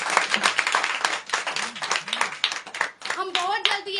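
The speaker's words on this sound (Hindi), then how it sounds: "इन बच्चों के लिए तालियां मारे जरा।" A church gathering claps for the children, several people clapping in loud uneven bursts with voices talking and calling out over and between the claps.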